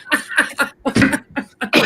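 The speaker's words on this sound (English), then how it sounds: "squat and cough" A person coughs several times in a quick series of short, sharp bursts, close to the microphone, with brief pauses between them.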